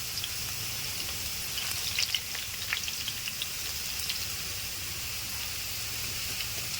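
Urad dal vadai fry in hot oil, making a dense, continuous hiss and crackle up close, with a few brighter spits and pops layered over the steady sizzle and no voices.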